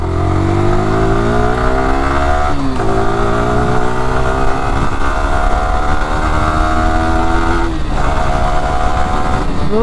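A 2023 Yamaha R15M V4 sport motorcycle ridden hard in sport mode, its engine loud and close, revving up through the gears with rising whine and brief dips at each shift, continuous throughout.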